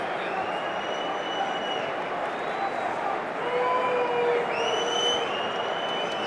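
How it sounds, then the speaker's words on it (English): A stadium crowd at a Coventry City v Burnley EFL Championship football match applauds a substituted player, a sustained wash of clapping and murmur with faint whistles and calls over it. "Warm applause for his efforts here this lunchtime."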